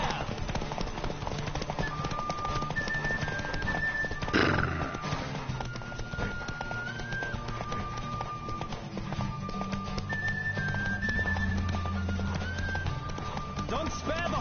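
Video-game horse galloping with steady clip-clop hoofbeats and an occasional whinny, layered under background music and ambient game sound.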